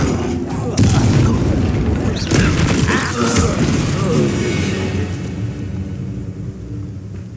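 A Confringo blasting spell goes off in Hogwarts Legacy, a loud booming burst with crackling debris that rolls on for several seconds and fades out gradually. Voices talk over the blast.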